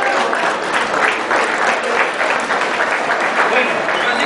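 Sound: audience applause at a fishing festival

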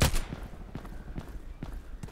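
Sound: gunshots during shooting training, from the video game Contract Wars

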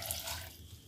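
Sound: water poured into a pressure cooker with mango pieces

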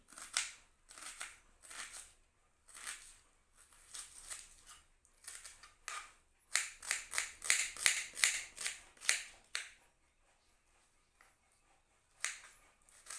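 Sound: knife cutting onion

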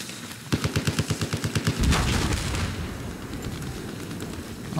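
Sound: machine gun fire in Battlefield 4 (video game)

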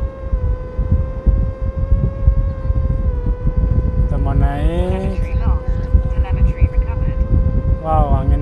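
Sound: strong wind at Mount Bromo crater

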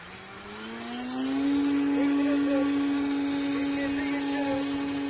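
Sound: engine revving under throttle

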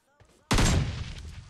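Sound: gunfire in PUBG Mobile video game

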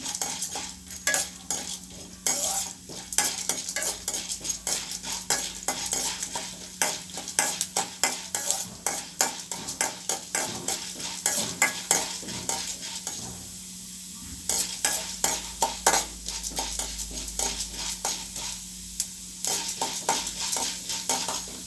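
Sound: urad dal frying in oil while being stirred in a pan

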